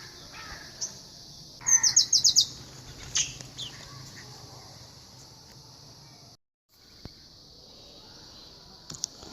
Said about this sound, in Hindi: ये देखो जी एक नई चिड़िया आ गई है माशाल्लाह।